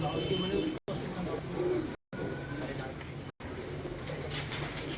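A pair of Teddy pigeons coo at close range against a busy background hum. The coos are broken by three short dropouts.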